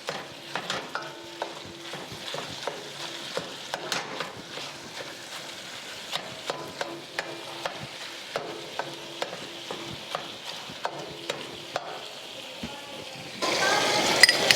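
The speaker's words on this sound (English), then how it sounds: "Now I'm going to add in here my ground beef." Ground beef sizzles and crackles steadily in a hot pan for a spaghetti Bolognese, with frequent sharp scrapes and clacks of a spoon stirring, the hiss swelling louder near the end.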